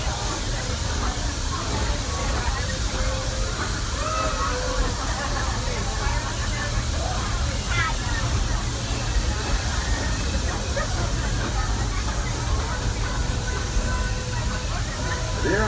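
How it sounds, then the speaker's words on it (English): Constant broad hissing of steam from the Walt Disney World Railroad steam train at Magic Kingdom fills the air, steady and loud throughout, with faint voices and mechanical clatter buried underneath. "There are some who say that this steam train is a little old-fashioned"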